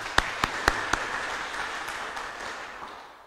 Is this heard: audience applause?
yes